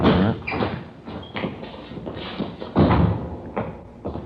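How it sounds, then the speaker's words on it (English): A door in an old police radio drama opens and closes as a sound effect, with thumps and handle clatter over room noise and faint background voices. "Here, I'll get the door."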